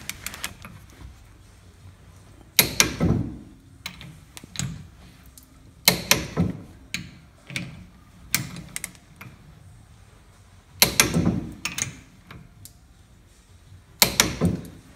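A wrench tightens the four kingpin bolts on a 1st gen Cummins truck. Close, sharp metallic clicks and clunks come in irregular clusters, with quiet gaps between them.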